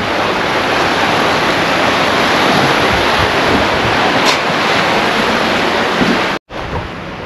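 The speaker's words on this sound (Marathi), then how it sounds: "असा सगळा समुद्र आहे हा." Sea waves surge at a coastal fort, a loud, steady roar of surf mixed with wind noise on the microphone, broken by a brief dropout near the end.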